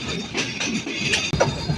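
The Chitra Express rolls into Chatmohar railway station in Pabna, a loud, close rumble of rail cars with rhythmic wheel clatter and a sharp brief break near the end.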